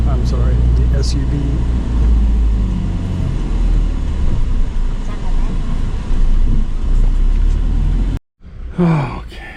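An SUV driving away from a Thai airport parking lot, its engine and road rumble loud and steady inside the cabin, with breathy vocal sounds over it before the noise cuts off abruptly near the end.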